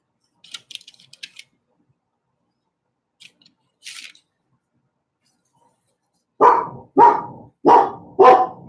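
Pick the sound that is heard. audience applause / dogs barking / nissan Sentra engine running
dogs barking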